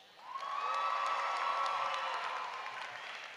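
A high school commencement audience breaks into applause and cheering, rising quickly, holding as a dense wash of clapping and whoops for a couple of seconds, then slowly thinning out.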